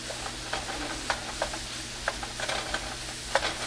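Leftover rice being stirred and fried in oil, a constant close sizzle broken by repeated scraping strokes of a utensil against the pan at an uneven rhythm.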